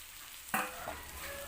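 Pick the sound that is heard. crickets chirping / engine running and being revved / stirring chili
stirring chili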